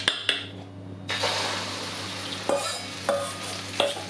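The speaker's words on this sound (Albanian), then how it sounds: "Kam shtuar vaj tek tigani." Oil heating in a frying pan for a squash and kashkaval cheese omelet gives a soft sizzle, broken by a few sharp clinks of a utensil against the pan.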